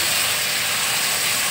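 A bowl of milk is poured into a hot pan of roasted coconut for bread-coconut laddu, giving a loud, continuous, close hiss that holds steady from start to finish.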